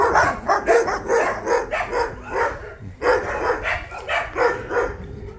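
Dogs bark repeatedly in quick, overlapping bursts, fairly close and loud, with short yips between the barks, on a street in Honduras.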